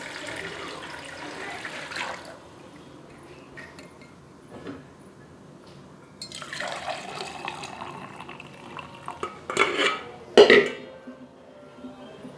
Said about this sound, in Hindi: इसी मग के साथ मैं डालूँगी पानी